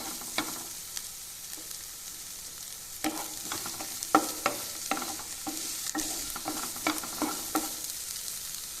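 Sliced onions fry in a pan for tomato chutney, a steady soft sizzle broken by repeated scraping clicks as a spoon stirs them, close and alone with no talk.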